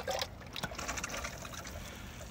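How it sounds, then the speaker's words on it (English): Water trickling and splashing as it is poured over a tray of live sphagnum moss, a steady wet dribble running close by for a couple of seconds with no talking. "I'm gonna take it outside and then water it in."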